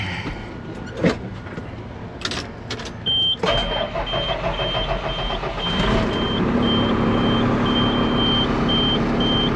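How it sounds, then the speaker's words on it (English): A bucket truck idles with a steady engine rumble, then its reversing alarm starts a regular series of high beeps that repeats through the rest of the clip. "see if I can't pull this"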